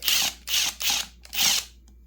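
Nuts being run down over washers onto the case studs of a 1976 Husqvarna 400 motorcycle engine, heard as four close bursts of ratcheting, whirring tool noise separated by short pauses, with no talk.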